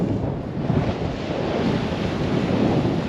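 Strong gale buffeting the microphone on the Western Australian coast near Cleaverville and Cape Keraudren, a continuous loud roar of wind and surf rumbling without pause, with no voices.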